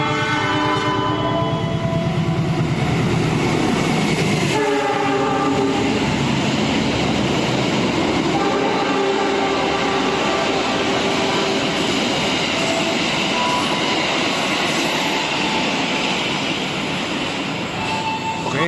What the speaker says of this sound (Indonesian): Saat ini kereta api Erlangga sudah tiba dan berhenti di stasiun Cirebon Pucakan